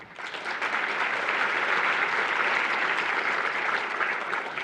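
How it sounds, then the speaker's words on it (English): Steady, dense applause from a conference audience at Code4Lib 2017 fills the space for several seconds, a sustained even wash of many hands clapping with no talk over it. "So let's give a big round of applause to them."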